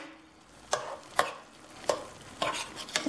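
A spoon stirs ossobuco with chopped parsley and garlic in a pan, giving five soft scraping strokes at an uneven pace that sound close and fairly quiet, with no voices.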